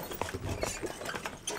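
Horse hooves clip-clop in a quick, uneven rhythm during a horseback ride through jungle trails in Trinidad, Cuba, heard up close but fairly quiet, without talk.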